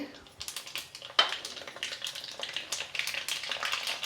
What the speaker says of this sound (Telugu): ఆవాలు మెంతులు జీలకర్ర మినప్పప్పు శనగపప్పు టపటప అనాలి